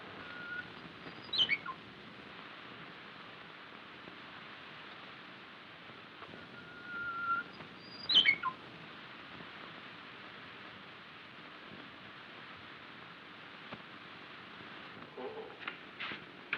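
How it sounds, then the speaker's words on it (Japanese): Japanese bush warbler (uguisu) in a 1941 period drama set in feudal Japan, giving two short, faint whistled calls several seconds apart over steady background hiss, with no talking. "ウグイスももうこれが聞き納めじゃの。"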